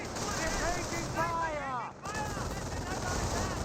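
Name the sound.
MG42 machine gun firing, from video game Company of Heroes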